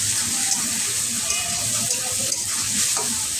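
Water poured into a pan of frying fish with tomato and green chillies hisses and bubbles loudly, a continuous sizzle with stirring clinks close by.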